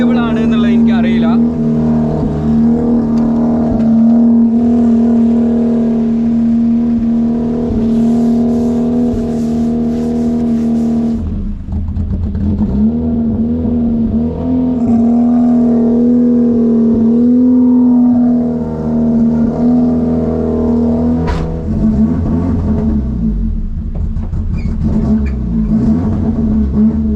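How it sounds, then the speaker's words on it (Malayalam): A racing car started cold after five years runs with a loud, steady engine drone and occasional revs that rise and fall, heard close for nearly half a minute, with an indistinct voice partly under the engine noise. "നമ്മളങ്ങനെ ഒരു raise car first test drive ചെയ്യാൻ വേണ്ടി പോവാ കേട്ടോ"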